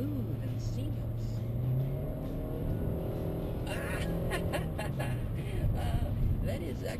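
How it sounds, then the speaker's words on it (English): A 2013 Nissan Altima SL sedan engine hums steadily as the car accelerates, with a smooth low drone and rising whirring tones heard from inside the cabin, fairly loud and continuous. "I can hear that the engine is raring to go"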